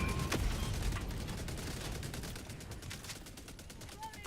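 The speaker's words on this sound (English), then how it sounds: "Good old autocannon." Autocannon fire in a shooter video game, a long rapid stream of heavy punchy shots rattling on continuously at a fast even rate, loud and dense with mechanical clatter, ending in a brief lull.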